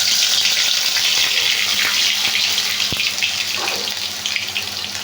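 Ground onion paste hitting smoking-hot oil, a loud, dense sizzle and hiss that holds steady and eases slightly toward the end, close up with no talking.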